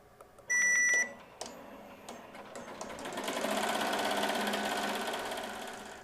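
An embroidery machine stitches a design onto a fluffy stocking, opening with a few electronic beeps, then a steady, loud, rapid mechanical whir of needle strokes that builds and continues evenly, with no voices.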